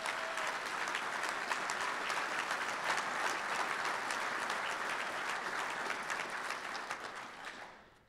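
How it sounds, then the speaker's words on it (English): Sustained audience applause for award recipients at a logistics awards dinner, a dense crowd clapping evenly for several seconds before tapering off at the end. "how about another round of applause for our award recipients?"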